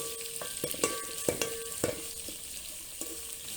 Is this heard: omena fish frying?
yes